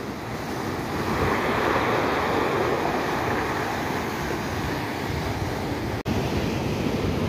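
Sea waves and surf with a strong current churn close by on a shellfish-gathering shore, a loud, continuous roar mixed with wind buffeting the microphone, with no voices.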